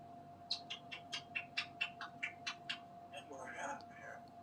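A pet bird named Smokey makes a quick series of about a dozen sharp, clicking, popping mouth sounds close by, followed by a softer rasping burst; a person speaks quietly around it.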